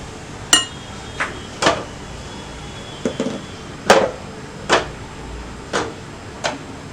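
Banana cake batter for a rice-cooker sponge cake being mixed in a bowl, heard as a string of about nine sharp, separate knocks and clinks of utensil against bowl, spaced irregularly and close up.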